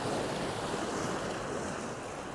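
Steady, dense wash of sea swell breaking on the rocks at Sker, Porthcawl, a continuous broadband roar with wind buffeting the microphone and no voices.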